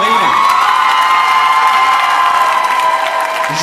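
A big arena concert crowd at Bercy cheers and applauds ahead of the singer, a loud, sustained roar of screams and whoops over dense clapping, steady throughout.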